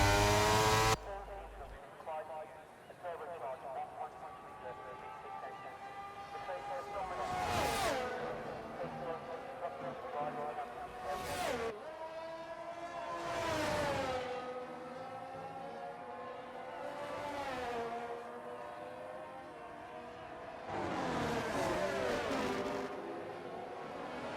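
F1 race cars in the F1 23 video game at Abu Dhabi, repeated loud engine howls as cars blast down the straight, several distinct passes with rising and falling pitch, commentator talking over them.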